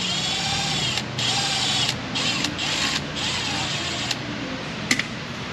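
A power tool whirs in short bursts while backing bolts out of a failed transmission, the buzzing runs broken by brief pauses and clicks, loud and close with no voices.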